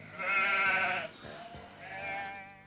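Sheep bleat close by: a long, loud, wavering bleat, then a brief gap and a second, softer bleat, with nobody speaking.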